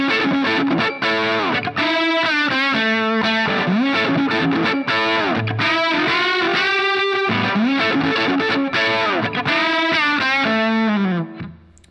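A distorted electric guitar plays a riff, with sustained bent notes and repeating melodic phrases. The tone is loud, continuous and effect-laden, and no one speaks as it rings out and stops near the end.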